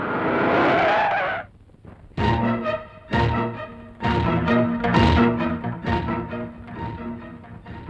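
A car brakes and skids to a stop with a loud, harsh tire screech lasting just over a second, cut off abruptly before rhythmic background music takes over.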